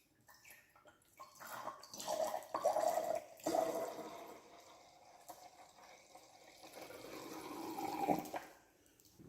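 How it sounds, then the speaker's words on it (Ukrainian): Juice is poured into a drinking glass for a homemade lava lamp experiment, a quiet liquid splash and gurgle that swells and fades in several bursts before stopping. "Ми наливаємо сік."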